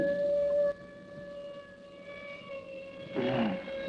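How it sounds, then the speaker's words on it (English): A police siren wails steadily at a distance, fading in, with a second rising tone swelling in near the end, no voices present. "the sound of police sirens fade in"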